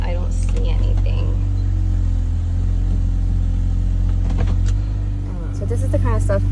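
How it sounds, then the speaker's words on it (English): A loud, rough car engine with an exhaust leak drones steadily with a low rumbling exhaust at a dealer auction, while people talk faintly over it. "It seems to have an exhaust leak because it's kind of loud."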